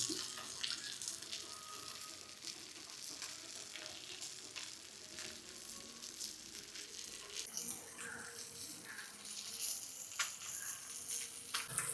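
Fish pieces sizzle steadily in hot oil in a pan, a dense, continuous frying hiss with crackles that holds for the whole stretch, fairly close and with no talking.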